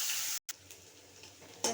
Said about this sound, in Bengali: কিছুটা পেঁয়াজ ভেজে নিচ্ছি